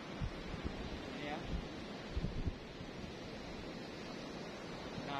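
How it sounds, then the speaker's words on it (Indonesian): Surf washes in continuously at a quiet beach on the edge of town, the waves fairly strong and large, a steady broad roar with brief louder swells, wind buffeting the microphone throughout. "di sini dan gelombangnya juga cukup deras"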